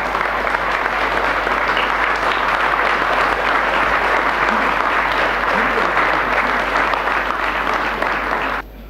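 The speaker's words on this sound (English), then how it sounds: "I request all of you to stand up and give him a standing ovation" A standing ovation at a chess championship in a hotel: dense, steady applause from a large crowd that holds at full strength for several seconds and then drops off suddenly.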